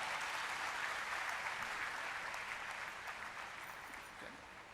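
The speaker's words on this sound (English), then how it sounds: "Please welcome once again with a big round of applause," Audience applause, a steady sustained round of clapping from a crowded hall at an event with a UPSC topper, fairly even and fading slightly toward the end.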